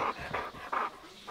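A dog pants in quick, rhythmic bursts, close and fairly quiet, outdoors on a first-ice walleye fishing trip, with no talking.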